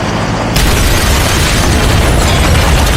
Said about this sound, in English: But when they left, the house exploded.